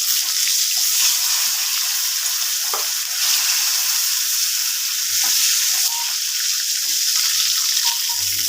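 Pointed gourd (potol) frying in a pan, a steady close sizzle with occasional soft stirring clicks and scrapes running throughout.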